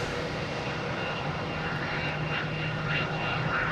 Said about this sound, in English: here's a JetBlue, an A320. coming in from that place I can't pronounce.